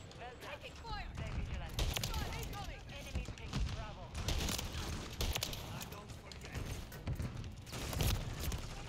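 Rapid gunfire bursts from a Call of Duty multiplayer match, repeated cracks spread through the clip at moderate loudness, mixed with game noise and someone talking over it.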